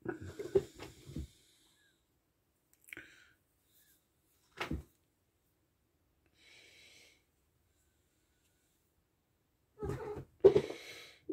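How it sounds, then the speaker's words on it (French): A few brief, scattered knocks and rustles in a quiet room, spaced seconds apart, like a cat moving things around in the background. "les bruits que vous entendez derrière, c'est rien, c'est toujours mon chat qui fout le bordel"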